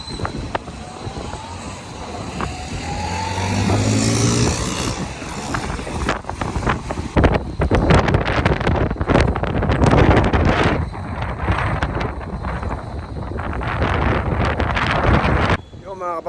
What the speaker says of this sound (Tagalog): Yo mga kapaps, ang lakas ng hangin.